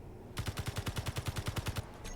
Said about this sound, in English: Okay, what's that? I hear gunfire.